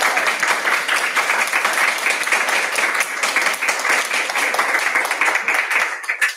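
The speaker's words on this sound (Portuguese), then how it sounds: "Convido a aplaudir o professor Leonardo." Audience applause for a professor after a university lecture on Debret, a loud, continuous patter of many hands clapping close by, fading slightly toward the end.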